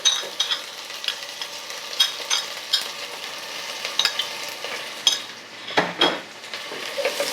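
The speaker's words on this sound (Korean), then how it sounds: "들기름이 좀 달궈지시면은 파 쪽부터 먼저 넣으세요." Scallions and garlic frying in heated perilla oil for beef seaweed soup, a soft steady sizzle with light rhythmic spatula taps and scrapes against the pan, close and unaccompanied by speech.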